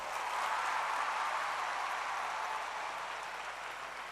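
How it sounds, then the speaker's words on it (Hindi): Applause from an audience at a speech event at KISS University, a broad, steady wash of clapping that stays even throughout and eases slightly toward the end, with no talking on top. "हमारी प्यारी बेटियों के लिए एक बार और जोरदार तालियां।"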